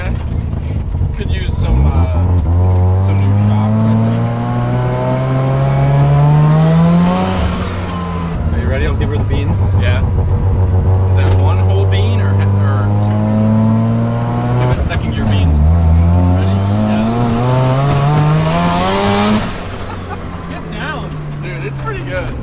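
A rotary-swapped, boosted Datsun 1200 accelerates hard through the gears, its high buzzing engine note climbing and dropping with each shift over about twenty seconds, loud and steady from inside the car.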